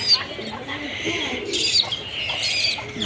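Pigeons being hand-fed give soft, low coos with a few faint chirps over a steady background hiss, the birds close by.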